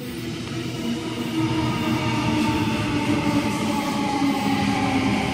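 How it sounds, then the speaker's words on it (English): A Waratah electric train arriving at a suburban station platform, with a steady, loud rumble of wheels and motors that holds evenly throughout, and no voices. "We have a Waratah arriving on platform number 3 for an Epping service."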